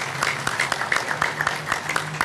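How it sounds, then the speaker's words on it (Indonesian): A small audience claps for Ibnu at a student gathering in Indonesia, with a short run of uneven, moderately close hand claps and faint voices in the background. "Tepuk tangan untuk Ibnu kan gitu."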